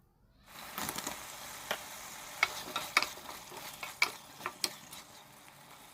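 Fish with tomato and potato sautéing in a pan, a steady sizzle with scattered clinks and scrapes of stirring, close and fairly quiet, no voices.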